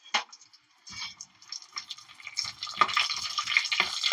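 Bay leaves and cumin seeds sizzling in hot oil in a pan for palak paneer curry, a soft crackling hiss with faint scraping stirs that grows steadier and louder toward the end.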